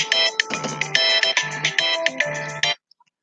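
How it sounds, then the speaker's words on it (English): Mobile phone ringtone playing a bright, repeating electronic melody of short rhythmic notes, loud and close for nearly three seconds before cutting off abruptly. "Sorry, that was my phone."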